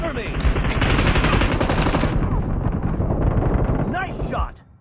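Rapid automatic gunfire from a team deathmatch video game, dense bursts of shots and loud blasts for about two seconds, then a quieter stretch of scattered shots and game effects.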